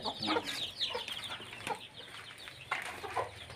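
A native country hen clucks repeatedly beside her twenty-day-old chicks on a farm, with soft peeping and rustling under the steady, moderately close calls.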